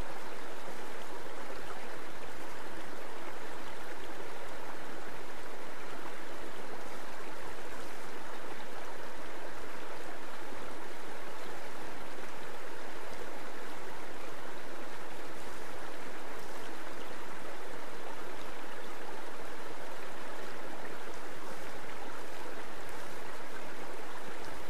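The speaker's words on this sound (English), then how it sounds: "A glide is a section of stream with little or no turbulence, but faster velocity than pools." Stream water moves smoothly through a glide, a shallow, fast stretch with little surface turbulence, giving a steady, even wash of flowing sound with no voices.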